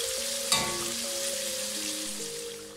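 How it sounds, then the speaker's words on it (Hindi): Tomatoes fry on a low flame in a karahi for a Peshawari charsi karahi, giving a steady, soft sizzle with a brief clatter near the start and a faint steady tone underneath. "फ्लेम लो कर दूंगा और टमाटरों को फ्राई होने दूंगा तकरीबन 2 से 3 मिनट तक।"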